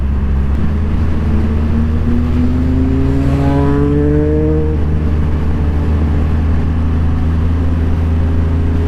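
A motorbike engine drones loud and close while riding, its pitch rising in a smooth revving sweep midway before settling into a steady high hum, with constant wind roar over the engine.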